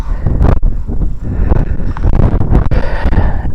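Strong gusty wind buffets the microphone on a frozen lake during ice fishing, a loud continuous low rumble with choppy fluctuations.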